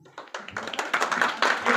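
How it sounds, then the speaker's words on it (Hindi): Scattered applause from a participant audience in a school training session, starting sparse and building into irregular, overlapping claps. "ताली"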